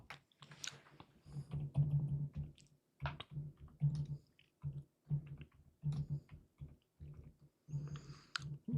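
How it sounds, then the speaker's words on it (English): Typing on a new computer keyboard with a microphone placed close to it, a quick irregular run of soft thocking key presses in short bursts with brief pauses, near and fairly quiet, no talking. "I purchased the new keyboard around 2 months ago, maybe 3 months ago, because my mic is very close to the keyboard, and before it was clunky."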